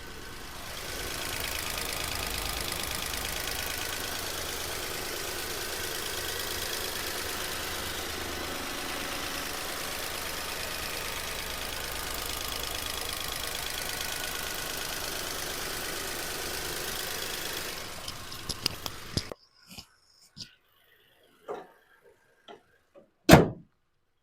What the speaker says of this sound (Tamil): வண்டியோட இன்ஜின் நாய்ஸ் நான் உங்களுக்கு மைக்கு பக்கத்தில் வச்சு எப்படி இருக்குன்றதை அதையும் காட்டிடுறேன்